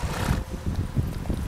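Horse hooves in The Witcher 3 game: quick, steady clip-clop of a galloping horse, close and fairly loud over a dense wash of noise.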